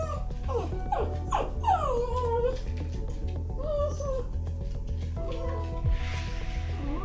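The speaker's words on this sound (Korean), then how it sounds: "그렇게 문 앞에서 한참을 짖더니" A dog left alone indoors in a closed-down shop yelps, whines and whimpers in a rapid, restless string of high calls over a constant low background drone.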